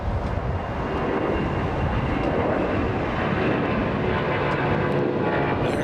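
Delta flight 715 jet airliner at LAX bound for Atlanta, a sustained rumbling engine roar at fairly close range, steady and unbroken, with no talking.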